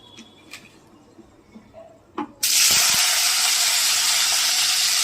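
Chopped onion, potato, capsicum and green chilli hit hot oil with a sudden loud sizzle that stays strong and steady, after a few small clicks and knocks in a quiet kitchen.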